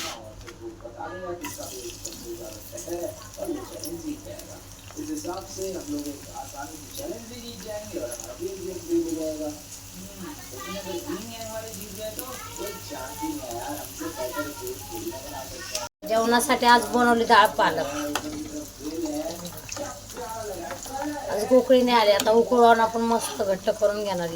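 Chopped onion sizzles in a hot pan for an onion and tomato chutney. A steady, moderate frying hiss runs beneath a voice and turns louder and busier partway through, as if stirred.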